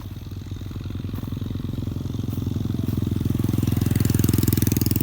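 A Kubota M6240 tractor pulling a rotary tiller through a dry rice paddy runs with a loud, close, throbbing diesel drone that clatters and rises in pitch and strength as it works.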